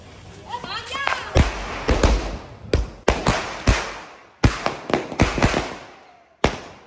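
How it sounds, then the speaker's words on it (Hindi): A string of firecrackers goes off outdoors around a Ramlila celebration, a rapid run of sharp loud bangs with echoing tails and brief gaps between bursts, people talking and calling out underneath. "अभी चलाते हैं भाई देखते हैं कितनी आवाज करती है ये"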